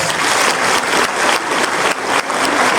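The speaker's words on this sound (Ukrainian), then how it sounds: "Оплески ще раз." Loud, close applause from a concert audience, dense continuous clapping with slight swells and dips over a few seconds and no talk.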